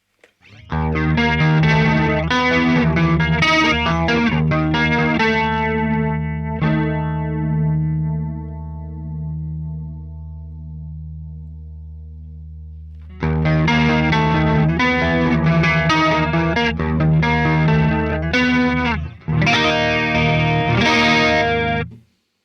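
Clean electric guitar chords through the Neural DSP Archetype: Gojira plugin shimmer with a warbling chorus effect, a long sustained chord ringing out and fading before strumming resumes.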